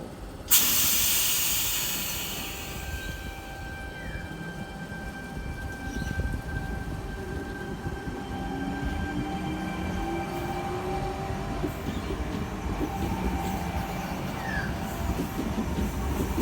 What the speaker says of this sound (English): Hurstville service departing platform number 1.